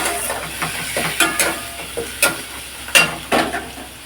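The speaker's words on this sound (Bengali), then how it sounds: "পেঁয়াজ বাটা দিয়েছি।" Onion paste fries in a pan with cumin, cardamom, cinnamon, clove and garlic for a Bengali rui fish dish, giving a close, steady sizzle broken by several stirring scrapes.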